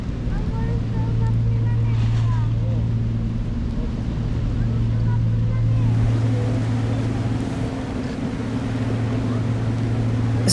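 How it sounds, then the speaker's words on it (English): Small black RIB boat approaching across cold Arctic water off Svalbard, a steady low outboard drone running throughout under broad wind and water wash, with a faint break partway. "A small black boat is slowly approaching."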